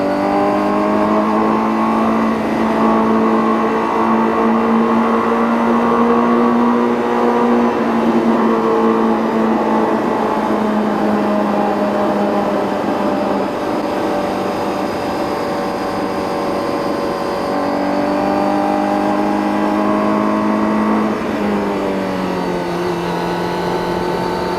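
A Honda CBR1000RR-R Fireblade SP motorcycle rides a winding mountain road in first gear, its engine holding a loud, steady tonal drone that rises and dips gently with throttle changes, plus a brief shift near the end.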